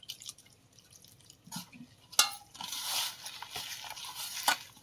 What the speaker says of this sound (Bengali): সামান্য জল দিয়ে দেবো।